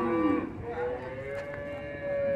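Cattle at a traditional livestock fair in São Bento do Una, Pernambuco, give one long, drawn-out moo at moderate distance, with faint crowd murmur underneath.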